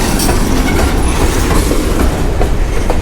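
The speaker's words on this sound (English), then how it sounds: "But the train, there's the train." A long freight train rolls past a railroad crossing close by, a loud steady rumble of wheels clacking on rails with faint squeals, filling the whole moment without talk.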